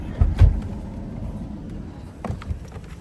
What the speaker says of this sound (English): I'll leave my car running